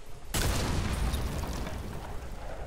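Explosion blasting open a jammed door in a video game: a sudden loud boom hits after a brief quiet lead-in, then a dense rumbling roar and debris noise sustain to the end, with no talk over it.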